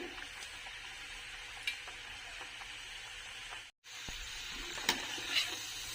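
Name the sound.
dough balls deep frying in oil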